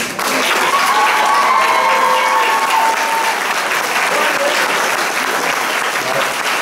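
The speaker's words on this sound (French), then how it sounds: "Je pense qu'on peut l'applaudir." Loud, sustained applause from a large crowd at a school graduation ceremony, continuous clapping filling the room with a few faint cheers mixed in.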